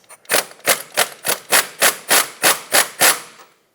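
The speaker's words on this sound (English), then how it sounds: "I'm going to use a 21mm socket on this, see if I can break it free with my impact" An impact wrench with a 21mm socket hammers at a steering rack nut on a 2014-2021 Mazda 6, firing about ten sharp, evenly spaced bursts up close with no talking.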